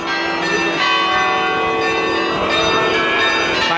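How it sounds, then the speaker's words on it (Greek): Festive church bells ring out from the Panagia Faneromeni church in Nea Michaniona, Thessaloniki, for a feast-day procession, a loud, dense peal of overlapping metallic strikes with long sustained ringing tones, continuous and close. "Πανηγυρικές καμπανοκρουσίες για την επιστροφή της μητέρας όλων μας στο ναό."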